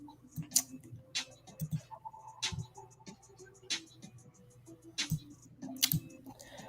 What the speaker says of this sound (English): I promise you, Terry, nobody's gonna hear me typing.